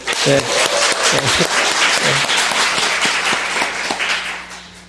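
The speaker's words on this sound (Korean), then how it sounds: "다시 한번 큰 박수로." A church congregation claps steadily in a dense wash of applause, with a voice speaking over it at the start before the clapping tapers off.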